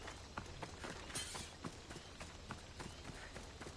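Horse hooves clip-clopping in the video game Assassin's Creed Odyssey, a steady, fairly quick rhythm of soft hoofbeats over a low game ambience, with no talk.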